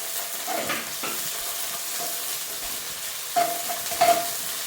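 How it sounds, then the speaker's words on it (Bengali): A spoon stirs a ground cumin and coriander paste into onions fried until red, with ginger added, in a frying pan. Steady scraping and soft sizzling run throughout, with a couple of louder clinks near the end. "এখন মশলাটা আমি মিশিয়ে নেব।"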